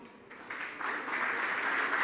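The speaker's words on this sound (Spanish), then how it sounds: "Le damos un aplauso." Conference audience begins clapping to welcome a speaker onto the stage at a smart city talk, starting faint and building to a steady, moderate applause over two seconds.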